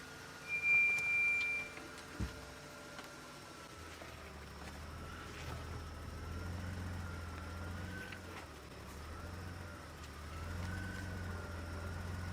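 A safari vehicle's engine idles low and steady during an evening wildlife drive near lion cubs, a soft continuous rumble after a couple of brief knocks at the start.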